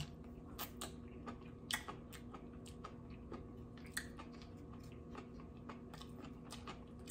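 Soft, close-up chewing of seaweed-wrapped sushi rolls, with small crunches and wet mouth clicks repeating steadily at a quiet level, no talking over it.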